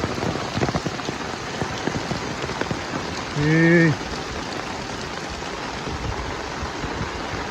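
Heavy rain pours steadily in a dense, close hiss, broken briefly by a short voiced sound partway through.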